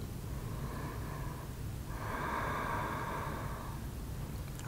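Slow, soft breathing during a beginner yoga pose: a gentle inhale followed by a longer, breathy exhale, quiet and close, with no talking.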